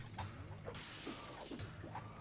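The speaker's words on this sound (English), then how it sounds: "And I picked up a chicken again." A chicken in the video game Dungeon Keeper Gold gives a few soft clucks over a constant low game background hum, faint and evenly spaced.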